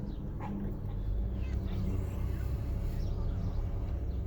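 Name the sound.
baboons barking at a drive-through zoo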